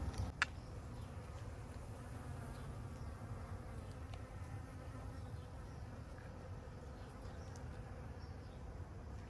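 Dozens of bees hum steadily around a lush Meyer lemon tree in a desert garden, a dense, continuous buzzing swarm close by, with one brief sharp tick near the start and no voices.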